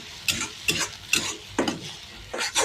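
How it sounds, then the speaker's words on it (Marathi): Three eggs are stirred with onion, coriander and spices in a hot pan, giving a series of five distinct scraping, clattering strokes of a spatula over a light sizzle, close and fairly loud. "आता 3 अंडे यात फोडून घेतले ते घालायचे आपल्याला. याला असं मिक्स करून घ्यायचं चांगलं."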